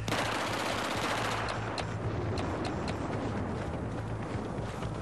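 Dense automatic gunfire and scattered shots in the video game Battlefield 4, a loud continuous rattle of weapons with sharper individual cracks standing out partway through, no voices.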